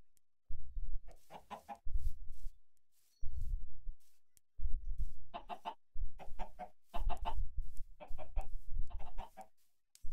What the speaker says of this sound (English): there's a lot of chickens over here